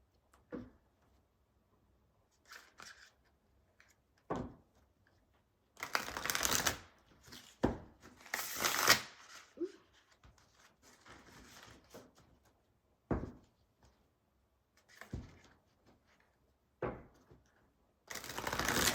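Bursts of tarot cards being riffled and shuffled, crisp papery flutters in several separate rounds with quiet pauses between, close to the listener.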